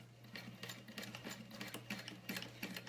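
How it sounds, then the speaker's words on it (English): A sewing machine runs steadily along the edge of a tote bag, a rapid, even patter of stitching over a low motor hum, fairly quiet and close. "I'm just sewing right up against the edge."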